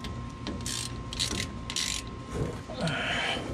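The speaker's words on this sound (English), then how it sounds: "Let's put this plug in. And we'll tighten her down." A ratchet tightens a drain plug under a Ford F100 in short bursts of close metallic clicking, broken by brief pauses and faint shop noise.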